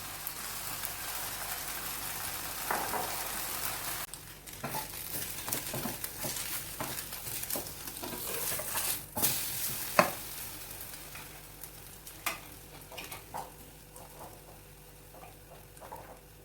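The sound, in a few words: French toast frying in a pan on medium flame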